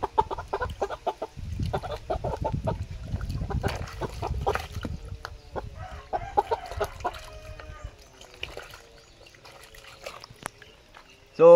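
A chicken clucks and murmurs close by during a bath in water mixed with Triple X shampoo, with splashing and handling noises early on and quieter clucks trailing off later.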